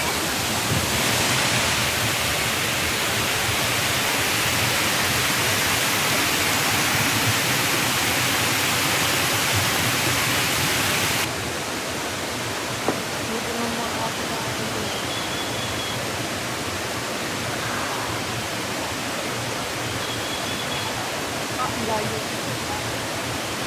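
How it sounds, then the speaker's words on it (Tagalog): A waterfall at a garden farm resort in Dolores roars as a dense, constant rush of water that fills the whole scene, with only faint background sounds riding over it. "Oh, ayan na yung falls na yan."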